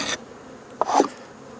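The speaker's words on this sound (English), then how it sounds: "The bees are fanning" Honeybees fan at an opened hive box, a soft insect buzz with brief louder bursts as individual bees pass close by.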